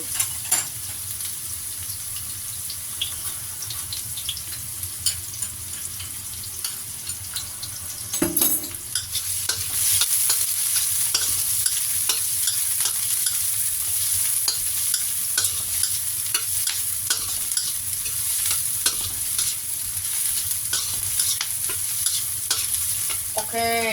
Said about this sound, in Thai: น้ำมันประมาณนี้ ใส่หอมแขกเข้าไป